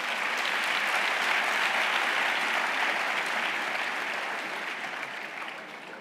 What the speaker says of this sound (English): Let us give a round of applause again